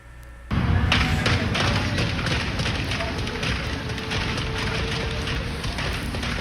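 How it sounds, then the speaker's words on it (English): Rapid, sustained gunfire traded between police officers and a rifle-armed shooter after a traffic stop in Midland, a dense barrage of shots and booms too many to count, loud and continuous with no pause. "You are listening to a hail of gunfire between officers and the shooter."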